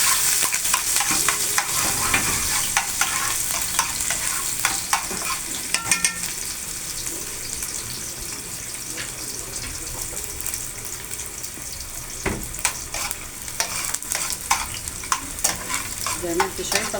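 Onion frying in a pan for an Egyptian chicken and potato tray bake, a constant sizzle with frequent scraping and knocking from a stirring utensil, close and fairly loud, and no one speaking.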